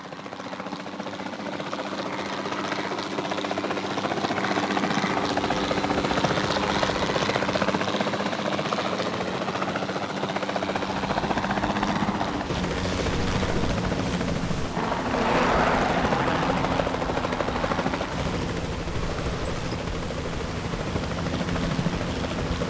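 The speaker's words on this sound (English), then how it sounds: "Then the sensible thing is to take a capture team helicopter." Capture team helicopter in the video game Jurassic World Evolution, a steady loud rotor and engine drone that runs continuously throughout with no pauses.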